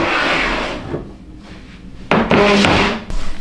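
A wooden drawer used to store wool is pulled open, with a soft rubbing slide followed by a firmer knock and scrape as it runs out, close by against a steady room hum.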